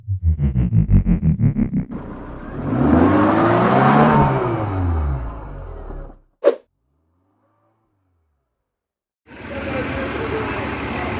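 A Mercedes bus engine on a Bilash Paribahan coach idles with pulsing throbs, then revs and whirs as it pulls away, cut by a sharp brief noise and a silent gap before the engine hum returns.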